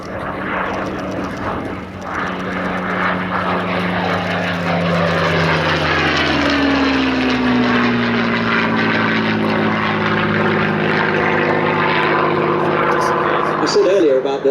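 A Supermarine Spitfire Mk IX propeller aircraft performs a flying display, its engine droning loudly and steadily as the pitch sweeps with passes, while someone talks over it.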